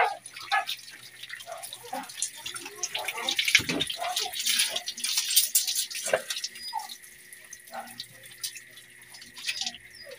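Tap water running and splashing while dogs, a Chow and another, are bathed, a steady close wash of water with scattered drips and faint voices in the background.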